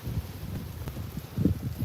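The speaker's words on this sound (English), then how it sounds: "It is a windy one" Wind buffets a phone microphone on a beach at sunrise in Playa del Carmen, a low rumbling gusty roar with fluctuating intensity and a stronger gust near the end, no voices.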